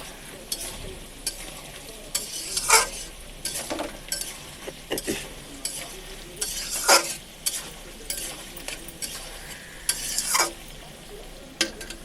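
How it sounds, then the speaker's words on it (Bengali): Cabbage frying in a pan with turmeric and salt, stirred repeatedly: steady sizzle under sharp scraping and clinking bursts from a utensil against the pan, close and fairly loud. "হালকা ভাজার পর বাঁধাকপি দিয়ে দেবো।"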